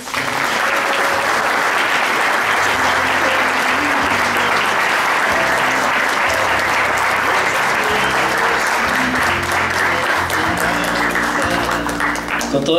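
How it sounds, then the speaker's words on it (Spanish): An audience gives sustained, loud applause at a ribbon-cutting ceremony marking the delivery of equipment to a children's hospital, with dense clapping throughout and low background voices beneath. "Por favor, un fuerte aplauso."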